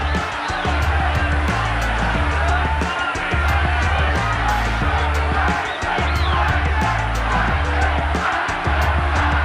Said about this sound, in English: there's jeering coming in the last round